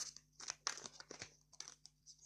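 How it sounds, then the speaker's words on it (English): A deck of tarot or oracle cards being shuffled during a live reading, giving soft irregular crinkling riffles and flicks close by, with no talking. "let's shuffle What's the Tea for our lovely Reese."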